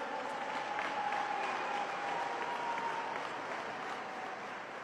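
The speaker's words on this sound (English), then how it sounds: "please give a big warm round of applause for Brother Haleem Muhammad" Continuous crowd applause at a drill competition, fairly faint and distant, a steady wash of clapping with a faint sustained tone running underneath.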